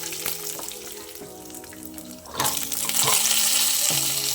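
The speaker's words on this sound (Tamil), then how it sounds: "வரமிளகா பூண்டு இஞ்சி எல்லாம் கொஞ்சம் வதங்கினோன்னு வெங்காயம் போட்டுக்கலாம்" Dried chillies, garlic and ginger fry in a pan for a mint chutney, a steady close sizzle with scattered crackles that swells louder about halfway through, with no voices.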